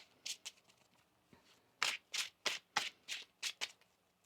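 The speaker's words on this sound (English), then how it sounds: "One more shuffle here." A deck of tarot cards is shuffled by hand in a run of about ten quick, crisp riffling bursts, close and fairly quiet, with short pauses between them and no talking.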